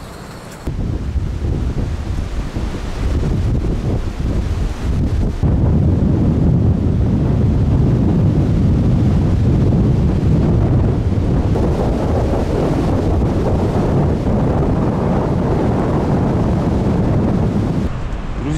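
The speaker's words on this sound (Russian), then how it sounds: "Вообще поднялся ветер." Strong wind over a carp-fishing lake buffets the microphone in a constant, loud roar of gusts, with rippling water faintly mixed in and no talk.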